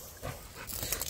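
An elderly American bully dog gives a brief, faint whimper close by, a short soft whine lasting about a second against quiet background noise.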